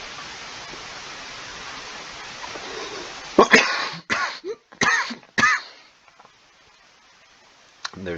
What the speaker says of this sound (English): And there's that damn coughing again